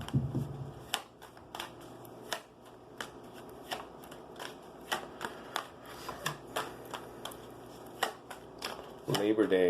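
Oracle cards being shuffled by hand, a steady run of crisp flicking riffles and taps close up, with a voice speaking briefly at the start and end.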